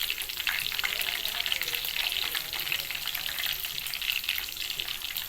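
Chicken 65 pieces deep frying in hot oil, a dense, continuous crackling sizzle with fine popping, steady and close throughout.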